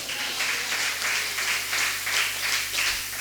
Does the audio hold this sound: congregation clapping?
yes